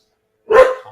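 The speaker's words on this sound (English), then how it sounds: "Hope the dog quits barking momentarily." A dog lets out one loud, close bark in an otherwise silent room, followed by a brief fading tail.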